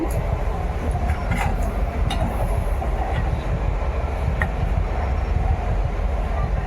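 A train rumbles past nearby, a loud, steady low roar with faint rhythmic clacking throughout.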